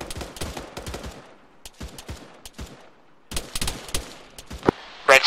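Gunfire in the military shooter Arma 3, with single cracks and short bursts of rifle fire. Some shots are close and others distant, scattered across the moment with brief quiet gaps between them.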